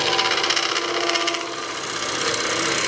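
A gouge on a wood lathe truing up the face of a turned blank, a continuous rough scraping hiss over the low steady hum of the spinning lathe, close and even.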